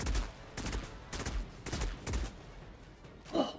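Rapid gunfire from the shooter video game Outriders, with several sharp bursts in a quick irregular rhythm, loud and close, and a short tonal effect near the end.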